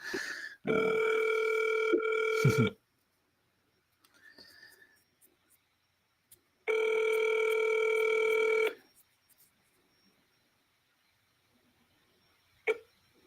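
Telephone ringback on an outgoing call: two long, loud electronic ring bursts separated by a few seconds of near silence, with faint handling noises between them and no talk.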